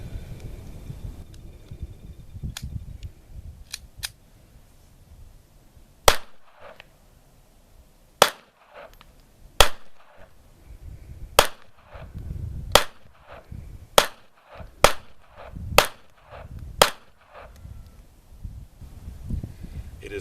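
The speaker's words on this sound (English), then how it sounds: "we're going to be shooting the French Ruby pistol" French Ruby .32 caliber pistol fired outdoors at a target about a dozen yards downrange: a dozen or more sharp, loud single shots at irregular spacing, some in quick pairs, with wind noise and quiet handling sounds in between.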